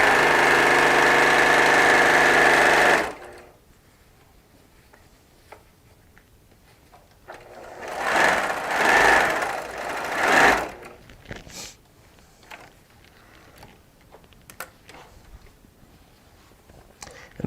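A sewing machine stitching a quilt with a knee lift and presser foot runs steadily and loud for about three seconds, then stops; a second shorter burst of stitching follows, with faint handling clicks in between.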